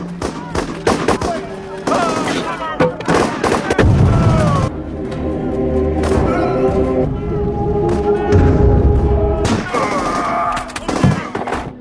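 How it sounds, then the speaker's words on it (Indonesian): Battle-scene gunfire from an action film: dense bursts of shots and rapid automatic fire cracking across the scene, mixed with explosion-like booms and shouting voices, loud and continuous with brief lulls. "Namun ternyata itu adalah jebakan dan tiba-tiba pasukan Mayor Harding diserang hingga terjadilah aksi tembak-tembakan."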